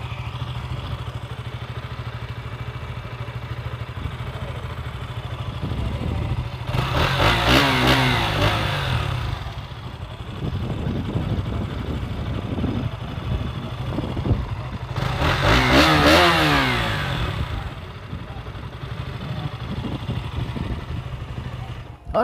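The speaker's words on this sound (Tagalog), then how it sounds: "so yun yung tunog ng makina ng ating Duke" A KTM Duke 200 BS6 motorcycle engine idles with a low, steady rumble and is revved twice in loud bursts, while people talk nearby.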